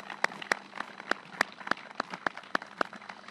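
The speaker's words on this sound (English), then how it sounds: "join me in giving them a round of applause" Applause from a crowd at an outdoor Veterans' Day ceremony: a steady patter of many hands with sharper individual claps standing out in a regular rhythm, moderately distant and fairly quiet throughout.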